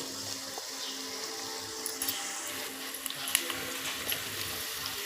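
Fenugreek seeds with urad dal and chana dal sizzle in hot oil in a pan, a steady close crackle with scattered small pops and no talking.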